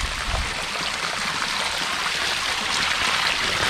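Water poured over a live sea bass, a steady close splashing trickle that runs throughout, loud and alone.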